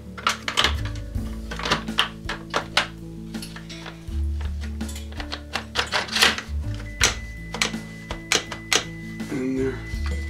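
Tavor rifle barrel being seated back into place during disassembly, a run of sharp metallic clicks and knocks in irregular bursts over a low steady hum, close to the microphone.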